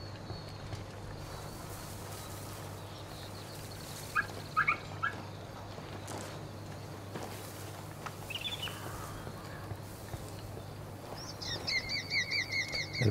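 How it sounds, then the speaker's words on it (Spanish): Bird calls from the video game Ghost Recon Wildlands (PS4 Pro beta): a few short chirps near the middle and a brief trill at the end, rising over a steady low ambient hum with no talk. "El pájaro."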